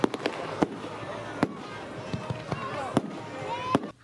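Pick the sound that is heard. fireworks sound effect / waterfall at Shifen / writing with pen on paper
fireworks sound effect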